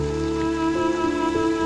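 Steady rain falls continuously, a soft hiss of drops on surfaces, held under a sustained musical drone with no talking.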